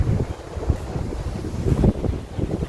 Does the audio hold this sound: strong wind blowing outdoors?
yes